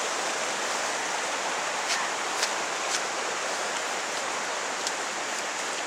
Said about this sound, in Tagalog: Ilog